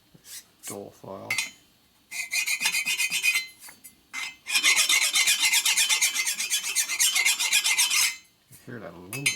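A hand file rasps across aluminum on a 1961 Harley FL 74ci panhead head in several bursts, ending in one long, steady stretch of close scraping, with a brief voice at the start and end.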